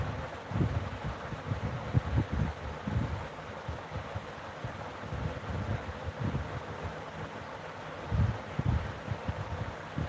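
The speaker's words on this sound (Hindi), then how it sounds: "हवा भी बहुत ज़्यादा है।" Strong wind blows across an open outdoor setting during rain, producing a continuous broadband rush with repeated low gusty buffeting on the microphone throughout.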